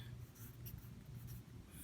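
Soft scratching of a pen writing math notation by hand, faint and continuous strokes over a low background hum.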